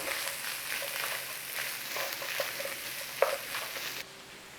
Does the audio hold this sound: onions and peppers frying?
yes